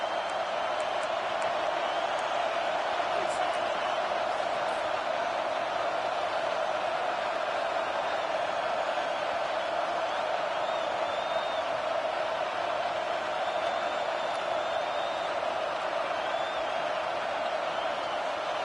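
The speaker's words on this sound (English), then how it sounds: "with this place rocking, the crowd forces a false start" Crowd at a Penn State football stadium roaring loud enough to force a false start, a dense, unbroken wall of cheering noise that holds steady throughout.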